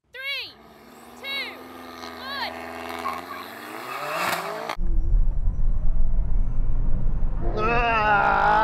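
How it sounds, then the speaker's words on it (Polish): A Tesla Model S Plaid launches hard in a race, a rising electric whine that abruptly gives way to a loud rushing roar of tyres and wind, with excited voices talking and exclaiming over the start. "Tesla startuje jak szalona."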